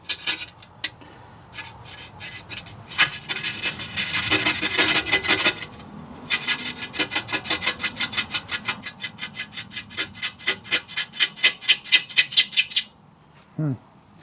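Razor blade scraping a stubborn residue off a surface, harsh raspy strokes building into a fast, steady series of short rhythmic scrapes that speed up and stop abruptly.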